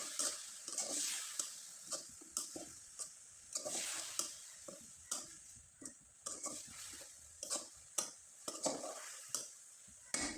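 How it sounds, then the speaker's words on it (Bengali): A spoon scrapes and stirs grated coconut with jaggery in a pan, giving repeated sharp scraping strokes at an uneven rhythm over a faint sizzle, close and fairly quiet. "এখন খুব ভালোভাবে নেড়ে চেড়ে নিব আর পুরটা একবারে শুকনো করে তৈরি করে নেব।"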